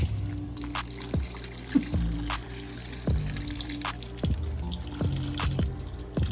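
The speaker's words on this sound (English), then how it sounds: "I'm trying to pour it directly over this big filter here just so that it doesn't stir up the sand too much." Pond water is poured into a plastic bin turtle tank over a large filter and sand, giving a close series of splashy drips and gurgling trickles in irregular bursts, with no talking.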